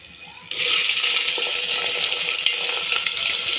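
Onions dropped into hot oil during tempering burst into a loud, steady sizzle after a brief quiet start, the crackling hiss holding strong and even to the end.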